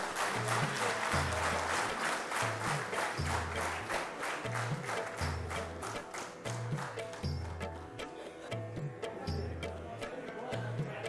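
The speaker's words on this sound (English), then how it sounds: "a big round of applause for the winners" An audience at an agricultural research foundation day award ceremony applauds the winners, with sustained clapping over a rhythmic low musical beat that continues throughout.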